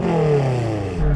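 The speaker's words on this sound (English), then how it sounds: "Rev up your car." A BMW M5 engine revs hard during a car wash sound check, a loud, close rising growl with climbing harmonics that briefly dips before another burst.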